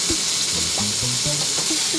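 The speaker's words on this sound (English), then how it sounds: "And we put it in the pan." Batter-soaked bread for French toast sizzles loudly and steadily in a hot pan, a close, bright crackling hiss with faint tonal squeaks and no talk.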